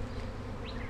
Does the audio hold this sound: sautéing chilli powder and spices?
no